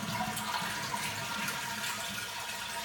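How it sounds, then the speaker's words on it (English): A toilet being flushed to drain its tank during removal, with a continuous loud rush of draining water filling the whole clip and no talking. "Now we're going to flush it to get all the water out of the tank."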